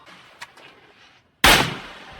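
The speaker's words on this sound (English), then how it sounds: "Junho hears a gunshot from outside the motel" A single loud gunshot outside a motel in Squid Game bursts in suddenly after a stretch of quiet, low ambience, and its sharp crack trails off into a fading rumble.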